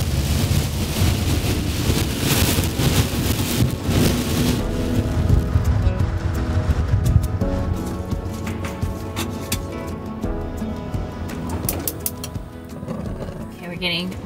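Wind roars and buffets outdoors on a road trip, a loud, continuous rush with gusty swells that eases slightly in the second half.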